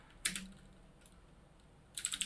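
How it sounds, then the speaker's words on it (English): Quiet typing on a computer keyboard comes in two short, rapid clusters of key clicks separated by a near-silent pause. "I'm a terrible typer."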